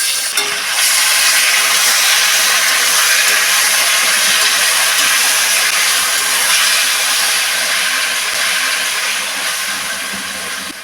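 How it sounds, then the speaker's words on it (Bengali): Boiled taro greens drop into hot oil seasoned with chillies, bay leaf, five-spice and grated ginger, setting off a loud, continuous hissing sizzle that fades slightly toward the end. "দিয়ে দেবো এবার সিদ্ধ করে রাখা কচুর শাক।"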